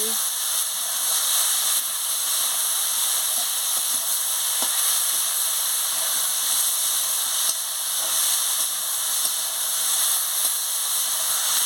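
Papaya and koi fish curry stirred in a pan, with a continuous hissing sizzle and faint, occasional stirring knocks under a steady broadband wash, even in level, with no talking.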